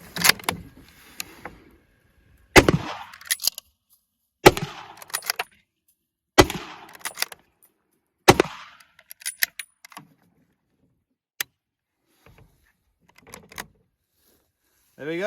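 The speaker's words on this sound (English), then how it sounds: "it's time for the mag dump with the 30-06 Springfield" A 30-06 Springfield rifle is fired rapidly into bulletproof glass, with four loud, sharp shots spaced about two seconds apart, each ringing briefly, then scattered lighter clicks and knocks in quieter gaps.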